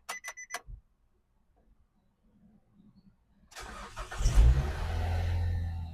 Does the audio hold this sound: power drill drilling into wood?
no